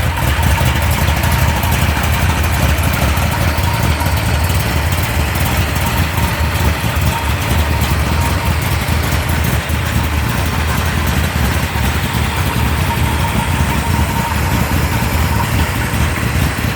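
A 1973 Mopar 360 V8 with aluminum heads idles steadily up close, a continuous loud low rumble with a faint mechanical rattle from the stator running underneath, no voices present.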